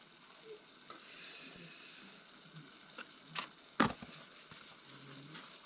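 Berbere spice fries in a pan in a tiny home kitchen at night, a faint, low sizzle broken by a few soft stirring scrapes and one sharper clink of utensil on pan.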